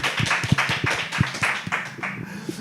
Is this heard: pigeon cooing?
no